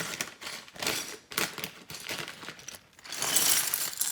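A Lego Star Wars polybag holding a Rebel X-wing kit is torn open up close, giving crinkly plastic rustling and tearing in uneven bursts, with loose bricks rattling inside and a louder crackle toward the end.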